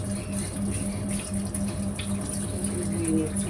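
Running water pours steadily into a basin as young jackfruit pieces are washed, an even splashing flow with a faint mechanical hum underneath and no voices.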